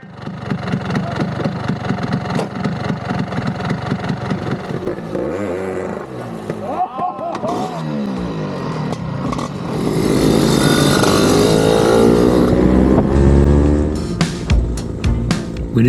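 A small motor scooter engine runs steadily while riding around Lake Vättern in Sweden, its pitch rising and falling with throttle changes, loud and close throughout.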